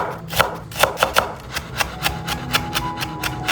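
Rapid, uneven knife chops on a cutting board, a quick series of close taps as green onions are minced, with no voices.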